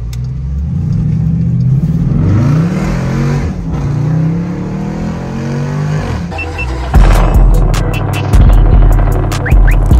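SRT Jeep engine revving hard and loud through a spin out, rising and falling tones for several seconds, then a brief drop and a burst of sharp, repeated revs and crackles near the end, close and with no talk.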